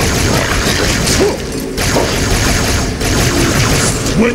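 Rapid bursts of gunfire from the Halo 2 campaign crackle loudly and almost without pause, with a couple of brief lulls between volleys.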